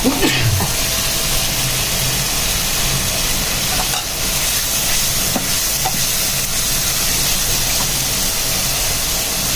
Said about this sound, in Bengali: এখন দিয়ে দিচ্ছি ইলিশ মাছের মাথা